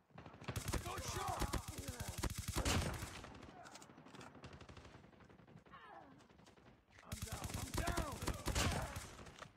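Rapid automatic gunfire bursts in a shooter video game, with a sustained loud volley, a quieter lull, then another heavy burst, with voices faintly mixed in.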